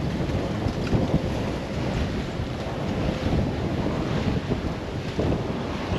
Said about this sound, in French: Là, on a 25 à 30 nœuds dans les rafales.